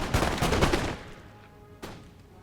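Rapid volleys of gunfire from troops in a historical strategy battle set during Italian unification, a dense crackling burst that fades, followed by a single sharp shot.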